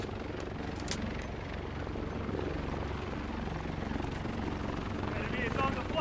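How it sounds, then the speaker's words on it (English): An enemy transport helicopter flies in The Division 2, its rotor thudding in a steady drone beneath combat chatter and gunfire, with voices talking over it. "Enemy transport helicopter detected."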